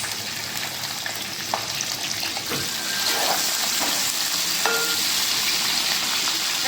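Chili and onions frying in a pan for chicken curry, giving a steady close sizzle with a few light clinks, the hiss growing a little louder and denser partway through.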